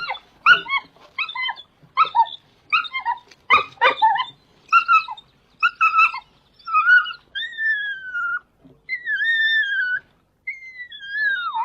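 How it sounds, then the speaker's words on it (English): A dog gives a run of short, close whimpering yips in quick rhythm, then turns to longer drawn-out high whines and cries, loud and alone without any talk. "that dog was mourning its owner"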